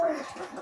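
A pet pigeon's brief, soft coo, close by in a loft with baskets for birds.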